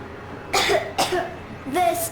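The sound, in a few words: coughing, from a video game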